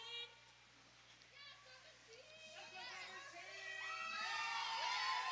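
The home crowd at a girls' varsity ice hockey game against Holderness cheers and shouts in a rink, with young voices swelling from faint to louder over several seconds.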